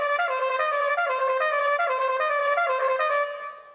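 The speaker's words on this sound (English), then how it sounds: "a little hipper version of using that same concept of the alternate fingering for the tremolo" A trumpet plays a fast tremolo lick, quickly alternating fingerings on one pitch to make a shimmering, wavering tone. It is loud, close and sustained for several seconds, then fades at the end.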